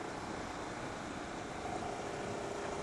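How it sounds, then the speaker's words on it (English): A Ducati Streetfighter 848 motorcycle engine runs with a steady, continuous broadband drone, fairly close and even in level throughout, with no talking over it. "The engine tone is good, it's not too loud, but you can hear what the bike's doing"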